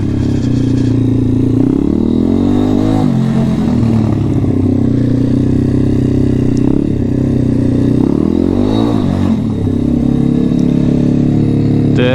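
An M2R RF160 road-legal pit bike engine holds a steady high idle throughout, a continuous, fairly loud close-up drone with small wavering surges and a light mechanical clatter, with no voices.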